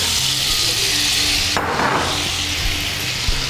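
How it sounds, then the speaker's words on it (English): Balsamic vinegar poured over tomatoes frying in a pan, giving a loud, steady hiss and sizzle that surges briefly partway through, with no talking. "I'm just gonna add the balsamic vinegar to our tomato. And we're gonna fry off the balsamic."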